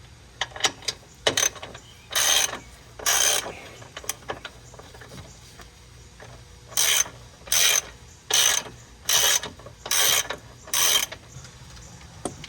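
Hand ratchet tightening a sway bar nut on a Mazda 3 during a rear sway bar install, heard as several bursts of close, crisp clicking strokes with short pauses between them.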